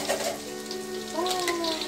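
An egg and green bean omelette frying over low heat in a pan, a soft steady sizzle beneath a voice talking.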